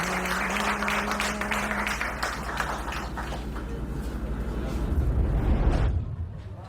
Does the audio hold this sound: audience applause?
yes